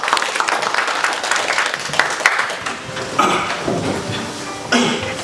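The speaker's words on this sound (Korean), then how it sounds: "박수 한번 부탁드리겠습니다." A seminar audience gives a round of applause that is dense at first and thins into scattered claps, with a few clinks and bumps in the room near the end.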